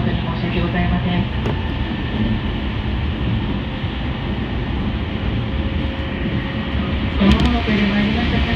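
A JR Utsunomiya Line train pulls out of Utsunomiya station, a steady low rumble and rolling clatter heard from inside the carriage, with a brief squeal and a couple of clunks near the end.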